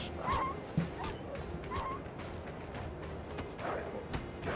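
Dogs in the video game Overgrowth yip, bark and whimper in short bursts amid game sounds, moderately faint with brief sharp cries scattered over a few seconds.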